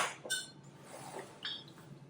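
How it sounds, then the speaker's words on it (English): A whisk clinks against a bowl while carbonated beverage is mixed into fish taco batter, giving a few light metallic taps and scrapes, close and fairly quiet, with no talking. "I'm gonna whisk in our carbonated beverage"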